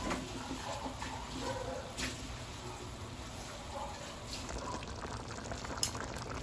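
Chicken adobo simmering in a pot, a steady low bubbling and hiss of boiling liquid that runs continuously with small pops, close and moderately quiet with no talking.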